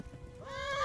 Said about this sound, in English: Damn it, horse, run.